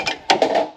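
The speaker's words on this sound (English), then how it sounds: "And there goes my socket." A metal socket falls during alternator work on a Subaru, giving a few quick sharp clinks and rattles in under a second as it lands and bounces close by.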